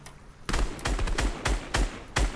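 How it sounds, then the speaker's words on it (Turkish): Rapid gunfire in the Fortnite Battle Royale video game, with loud repeated bursts of shots pounding in quick succession close up and continuing through the whole moment. "Aşağıdaki bana sıkıyor."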